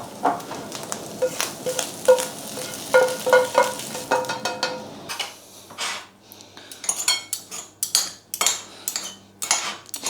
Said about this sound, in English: I chop the egg up, mix it in together with the mince